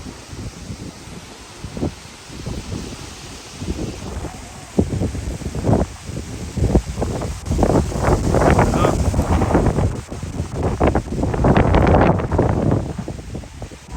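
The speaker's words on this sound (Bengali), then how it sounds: "প্রচুর বাতাসে" Strong wind gusts across village paddy fields in rural Bangladesh, a steady roaring rush with buffeting on the microphone that rises and falls; no speech is audible.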